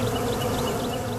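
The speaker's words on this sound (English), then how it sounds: "This has got a lot of bees in it." Bees buzzing thickly around beehives kept by a hobby beekeeper, a dense, steady, close hum that fills the whole moment without pause.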